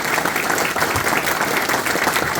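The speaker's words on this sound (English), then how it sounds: "Round of applause for Mike." An audience at an awards and interview event breaks into dense, sustained applause, many hands clapping together in a loud, even wash with no voices standing out.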